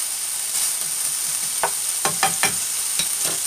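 Food fries in a pan while being stirred for omurice, a constant loud sizzle hiss with several distinct scraping strokes of a utensil close up and no talking.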